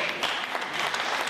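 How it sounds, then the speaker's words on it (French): Audience applause at a live Gwo ka and maloya music performance in a café, a dense steady patter of clapping throughout the short stretch, fairly close and filling the room with no one speaking over it. "Vous pouvez les applaudir."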